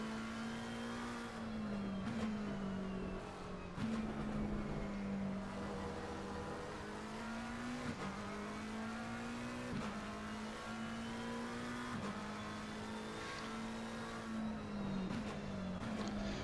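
McLaren race car engine at Paul Ricard in Assetto Corsa Competizione, a sustained high-revving drone with repeated brief dips and climbs as gears shift, steady and moderately loud.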